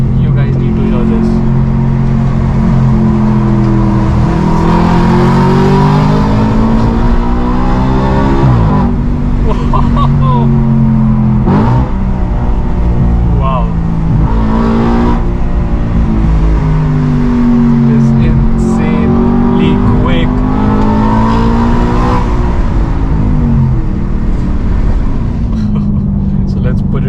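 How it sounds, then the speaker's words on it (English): Audi RS5 V8 with an Akrapovic exhaust in dynamic mode, engine revving in repeated loud rising and falling bursts across the whole stretch, close by, with people talking over it. "So when you put it to dynamic mode, automatically the gear drops from 7th to the 3rd, and the exhaust valves open."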